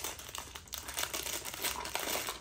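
Paper wrapping is crinkled and torn off a perfume box in close, quiet bursts of rustling and crackling, with no one talking.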